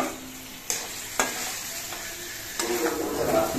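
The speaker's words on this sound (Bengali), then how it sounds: "এবার আলু দিয়ে আর মশলা দিয়ে কিছুক্ষণ কষিয়ে নেব।" Potatoes and spices sizzle and fry in a pan for a fish curry, a steady close hiss broken by a few sharp scrapes and stirs of a spoon, with no talking.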